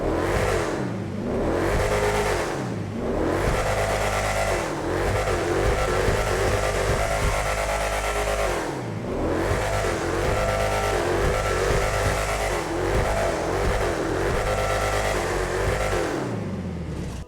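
A Franken Stange car engine revs in GTA Online, loud and close, rising and falling through repeated high revs with brief drops between pulls, running throughout with no talk.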